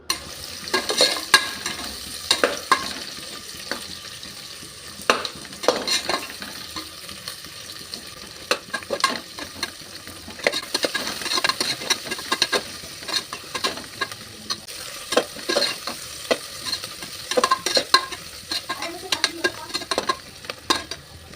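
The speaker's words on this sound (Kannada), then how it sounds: "ಇವಾಗ ಇದು ಕಲರ್ ಚೇಂಜ್ ಆಗೋವರೆಗೂ ನೀಟಾಗಿ ಫ್ರೈ ಮಾಡ್ಕೋಬೇಕು" Onions frying in a pan and being stirred, giving a continuous close crackling sizzle with frequent irregular scrapes and clatters of the spatula throughout, nobody speaking.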